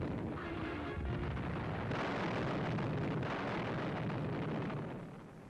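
Artillery fires in a wartime newsreel near the east bank of the Rhine, a dense, continuous rumbling roar of booms and blasts that stays loud throughout, with no voices.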